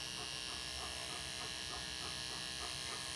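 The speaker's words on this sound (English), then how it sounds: "We turn a clipper on, we're ready to go." A dog grooming clipper hums in a steady, close electric buzz, running continuously with a faint rhythmic pulsing throughout.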